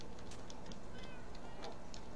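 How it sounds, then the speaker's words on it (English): Several Minecraft cats meow softly in a game room, a few faint mews scattered over a steady background hum, with no one talking over them. "Kitties! All the kitties. Lots of kitties."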